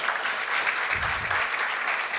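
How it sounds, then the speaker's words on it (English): A convention audience at a state gathering of Latino civic leaders claps steadily, a dense, even patter of many hands that holds at an unchanging level for a couple of seconds. "let's give them a big round of applause for doing the work that they do in Florida"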